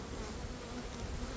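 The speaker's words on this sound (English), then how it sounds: "each individual branch of this is going to have a big ball of bees on it" A swarm of honey bees clustered on tree branches gives off a faint, steady, dense buzzing hum that fills the background without a break.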